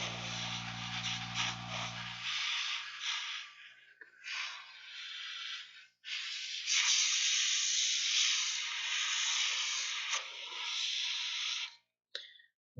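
A paint airbrush sprays in long, steady hissing bursts, cutting off briefly and resuming several times, close and fairly loud, with a short low hum at the start.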